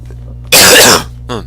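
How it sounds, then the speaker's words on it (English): A single loud, close harsh cough burst from a man who is unwell, followed by a short throat-clearing sound, with no talk around it. "Sorry for the coughing, guys."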